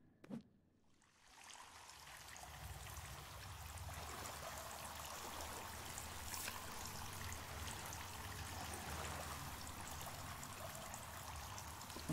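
Rushing water of a waterfall inside a cave in a video game, rising after a brief quiet start into a steady, broad wash of splashing flow that continues to the end.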